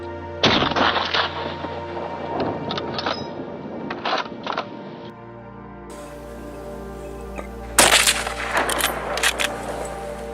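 Sharp gunshot-like bursts during a winter wild boar hunt on snow, a cluster of loud cracks early on and another strong burst near the end, with softer rumbling between.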